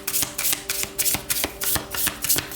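Tarot cards being shuffled by hand, a rapid, steady run of soft riffling flicks and papery slaps repeating about every third of a second, close and fairly loud with no talking.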